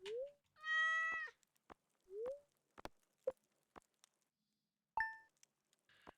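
Cat meowing in a video game, with several short, clear meows spaced out over quiet background ticks and clicks, close and moderately loud.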